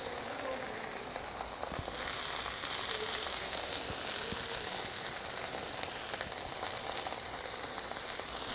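Cabbage frying in a pan, giving a steady, dense sizzling hiss that holds at an even level throughout without talking.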